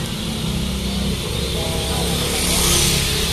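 Cars crowd a narrow street in Glodok Chinatown, Jakarta, with a steady, close rumble of engines and traffic, a motorbike-like drone swelling near the end, and faint voices mixed in.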